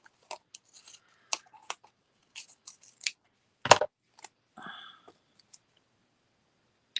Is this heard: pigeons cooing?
no